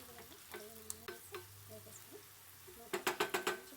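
Thinly sliced large onions frying in a pan, a faint steady sizzle with occasional spoon scrapes, then a quick rhythmic series of five sharp knocks as they are stirred and mixed.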